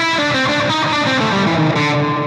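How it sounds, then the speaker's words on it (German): Electric guitar run through loud reverb placed ahead of a distorted amp, giving a dense, washed-out wall of sustained, smeared chords that ring loudly and continuously without a break. "Und jetzt setze ich mal den Hall vor den verzerrten Amp,"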